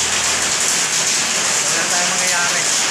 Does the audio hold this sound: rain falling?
yes